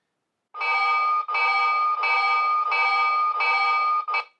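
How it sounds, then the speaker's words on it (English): Williams O scale model locomotive bell from its sound system, a Baldwin Shark diesel, ringing loud and steady in five sustained bursts with a short sixth, alone with no talk. "Typical Williams bell for their sound blast system"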